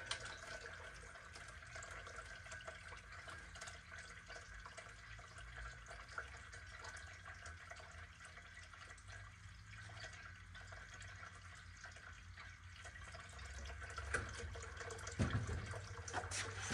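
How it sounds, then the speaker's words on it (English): Distilled water drains out of an S&A 5000 water chiller used with a CO2 laser, a faint, steady trickle and gurgle running continuously, slightly louder toward the end. "we're just going to wait till this all drains out."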